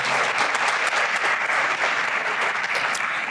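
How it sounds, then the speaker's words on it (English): Loud, sustained applause from a crowd at a scholarship pageant, honoring the stage and sound crew, with dense clapping holding steady throughout. "I'd like to give a big round of applause for them"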